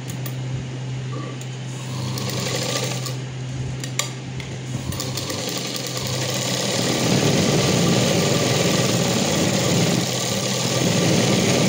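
An electric sewing machine runs steadily while stitching small sleeves on a short frock, a continuous close whirring hum that thickens and grows louder toward the end.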